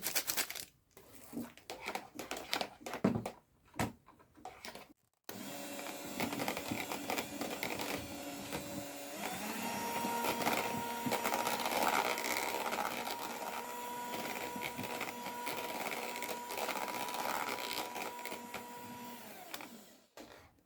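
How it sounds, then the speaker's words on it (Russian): An electric mixer whips cream with powdered sugar and vanilla sugar to stiff peaks, a steady loud whirring drone with a sustained motor tone running about fifteen seconds, preceded by intermittent clattering and short bursts. "И все сейчас взобью до плотного состояния."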